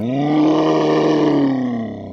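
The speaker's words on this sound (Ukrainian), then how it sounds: "Один із велетнів видав моторошний рик" A giant humanoid lets out a long, deep, eerie roar, a loud sustained groaning bellow lasting about two seconds that swells and slowly fades, alone with no talk over it.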